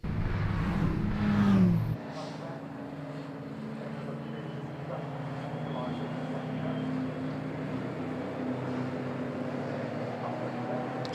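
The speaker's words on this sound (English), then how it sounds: "So there the cars turning now up through Redgate Corner" Historic racing cars at Donington Park turn up through Redgate Corner: a loud engine burst for a couple of seconds, then a steadier, quieter drone of cars running on, with a commentator's voice faintly under it.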